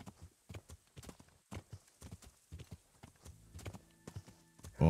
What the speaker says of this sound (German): Großes Pferd.